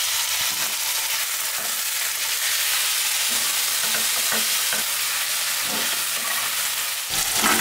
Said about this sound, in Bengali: রসুন, পেঁয়াজ দিয়ে দিচ্ছি তেলে।